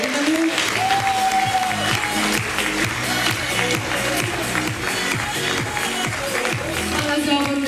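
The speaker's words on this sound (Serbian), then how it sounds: "Molim vas, jedan gromoglasni aplauz za Ivanu." An audience applauds loudly and steadily to welcome a speaker, a dense, continuous clapping that fills the room, with a few cheers rising over it.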